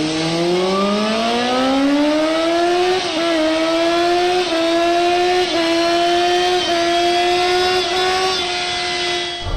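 A Ninja motorcycle engine revs hard and steadily while riding around a village, a loud, close, rising whine that climbs in pitch through repeated gear changes without pause.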